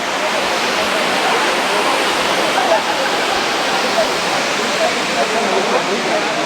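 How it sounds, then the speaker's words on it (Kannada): Jari Falls in Chikkamagaluru roars in a dense, unbroken rush of falling water, loud and close, with no other sounds rising above it. "ಮೇಲ್ಗಡೆಯಿಂದ ಬೀಳ್ತಾ ಇರೋ ನೀರು ಇಲ್ಲಿವರೆಗೂ ಬರ್ತಾ ಇದೆ ಗುರು"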